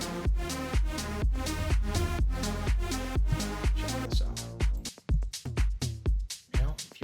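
Gritty synth basses from the Legend VST with drive, played as a loud repeating pattern of punchy notes with percussive hits, shifting midway into choppier, sparser stabs, no talking.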